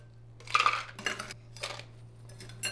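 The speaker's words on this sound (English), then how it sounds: "I'm going to fill this about halfway with ice." Several bursts of hard clattering as ice cubes tumble into a plastic cup, a big rattle first, then a few shorter clinking pours with a low hum underneath.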